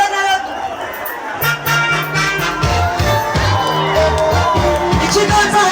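Stadium concert crowd at a Rwandan gospel show claps and cheers loudly, with rhythmic claps and musical tones over constant crowd noise and voices shouting.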